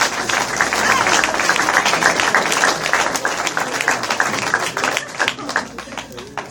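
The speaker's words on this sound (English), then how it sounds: "the round of applause once again" Staff at a fun night give a sustained round of applause, dense steady clapping mixed with crowd chatter that fills the room throughout.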